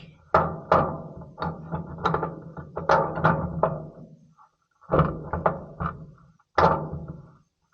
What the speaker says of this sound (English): So I'm just pushing back that dampener with the bolt there.